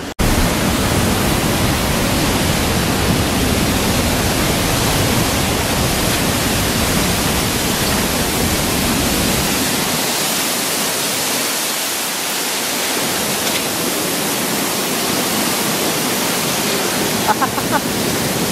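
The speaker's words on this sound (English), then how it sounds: "We are behind the waterfalls right there. Isn't that crazy? You can like hear the rocks like rumbling." Tunnel Falls on Eagle Creek, Oregon, roars as a loud, steady broadband rush heard from behind the falling water, continuous for the whole stretch with a slight dip partway through.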